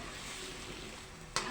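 Kalabasa squash sautéing in a pan gives a faint, steady sizzle, with a sudden brighter hiss near the end as it is stirred or hits hot oil.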